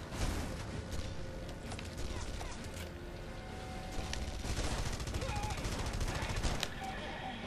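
Rapid bursts of gunfire from the video game Red Faction: Guerrilla, overlapping shots and a few mechanical clanks in a busy, continuous stretch at moderate loudness.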